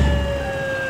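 An ambulance siren wails steadily on a street in Yogyakarta, heard from a motorbike with constant road noise underneath; the tone holds loud and continuous throughout.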